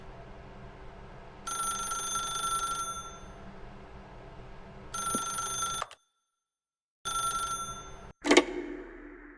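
A telephone rings in a video game in three separate bell-like bursts with short gaps between them, followed by a brief click as the call is picked up.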